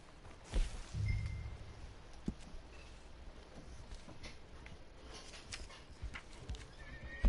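A horse in Red Dead Redemption 2 Online whinnies near the start, followed by steady clip-clop hoofbeats over a faint rustling outdoor ambience, no voices present.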